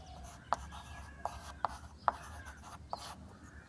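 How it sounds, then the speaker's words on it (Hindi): A pen writing out equations during a maths lesson on coordinate geometry, with a few faint, sharp taps and short scratchy strokes in a quiet room. "लिखेंगे"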